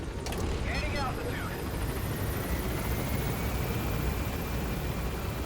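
A helicopter in the video game MGSV: The Phantom Pain climbs to gain altitude, its rotor and engine making a steady, loud, unbroken roar that fills the whole stretch.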